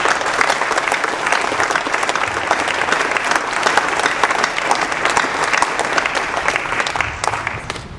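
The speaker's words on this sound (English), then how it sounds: "give everybody a round of applause" Sustained applause from a crowd of adults at a wrestling banquet, dense steady clapping for the whole stretch, loud and close with no break.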